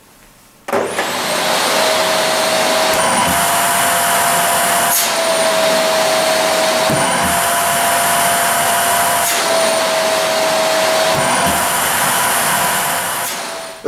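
A household vacuum cleaner switches on with a sudden start and runs loudly and steadily, its motor whine shifting in pitch every few seconds as the airflow changes, with no talking.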